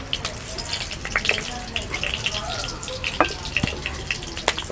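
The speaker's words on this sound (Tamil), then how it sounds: "ஒரு 5 நிமிஷம் வதக்கினா போதும் எண்ணெயில்." Eggplant pieces being sautéed in oil in a pan for an eggplant kuzhambu, with a steady close sizzle and crackle, occasional clinks and stirring scrapes, and faint talk in the background.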